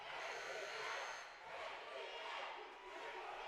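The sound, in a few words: basketball tournament crowd cheering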